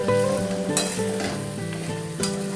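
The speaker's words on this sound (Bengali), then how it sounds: "কিছুক্ষণ কষে নেওয়ার পরে আমরা এর মধ্যে অ্যাড করব গ্রিন চিলি, যেটাকে আমরা লম্বা লম্বি কেটে রেখেছি।" Slit green chillies sizzle in a frying masala of potatoes for a no-onion, no-garlic paneer dish, a brief close crackle with a couple of sharp spits, heard under tuneful background music.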